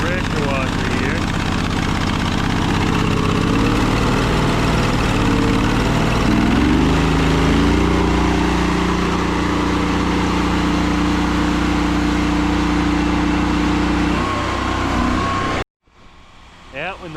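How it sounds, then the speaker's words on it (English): A gas-engine pressure washer runs loud and steady during a commercial stucco soft-wash job, its engine drone holding nearly constant for about fifteen seconds before cutting off abruptly, with a few faint sounds after. "Then the old pressure washer here."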